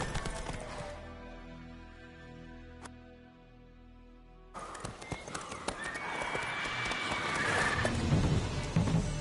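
A horse in the Witcher 3 video game neighs and whinnies, then its hooves clip-clop at a steady, quickening rhythm, close and clear over game background sound.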